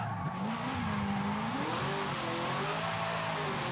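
A V8-powered drift car in Forza Horizon 5 revs and slides, the engine note rising and falling steadily under continuous tire squeal, loud and close throughout.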